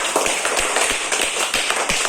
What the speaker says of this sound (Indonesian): Tepuk tangan untuk semuanya, anak-anak.